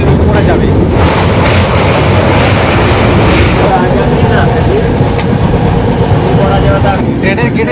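A crowded passenger train bound for Puri during Rath Yatra rolls near Balasore, heard from the open doorway as a loud, steady rumble with rattling and rushing air. Voices talk over it.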